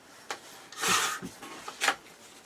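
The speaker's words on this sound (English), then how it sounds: "I'm going to cut off a 1/2 inch after that last score line." Scissors cut through craft paper for a mini album in a few short, close rasping snips separated by brief pauses in a quiet room.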